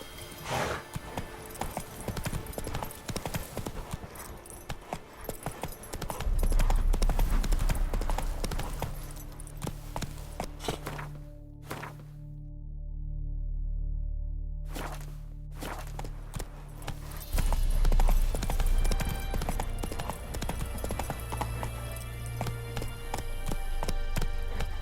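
Horse hooves clip-clopping in The Witcher 3, a fast rhythmic galloping beat running under game music and ambience, briefly interrupted by a quieter stretch midway.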